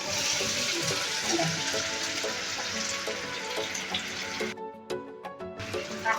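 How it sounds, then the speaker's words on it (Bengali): Water is poured steadily into a cooking spice mix of ginger, cumin and chili paste, giving a close, continuous splashing hiss that breaks off briefly near the end before resuming. "তারপরে দিলে একটু জল"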